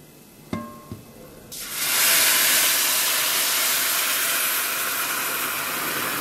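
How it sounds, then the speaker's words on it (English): A couple of light clicks, then a sudden loud, steady sizzling hiss as milk is poured into a hot pan for vermicelli kheer, starting and continuing. "so going to pour in the milk now"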